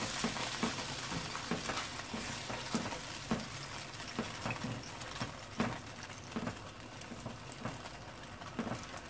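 A rice dish in a pan being stirred right after cornflour goes in, giving a soft, continuous sizzle broken by repeated scraping and tapping of the spoon, fairly quiet and without talk.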